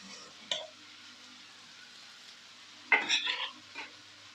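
A utensil stirs ribs and egg fried rice in a pan, with a sharp scrape at the start and a longer burst of stirring and clinking later, faint sizzling in between.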